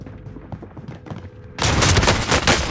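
Loud burst of rapid gunfire from the video game Modern Warfare Warzone erupts suddenly partway through, dense and sustained after quieter background game noise.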